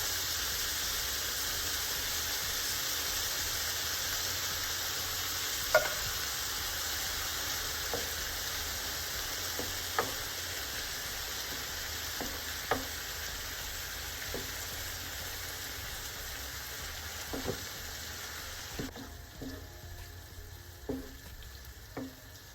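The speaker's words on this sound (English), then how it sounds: "Add the tin of diced tomatoes." Diced tomatoes from a tin cooking in a hot pan for chicken enchiladas, giving a steady, close hiss of sizzling broken by occasional light utensil clicks and taps.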